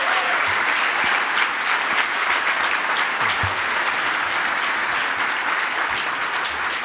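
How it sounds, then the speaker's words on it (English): Sustained clapping from the crowd at an awards luncheon fills the room evenly and loudly, with no voices over it. "let's give a round of applause to everyone recognized today."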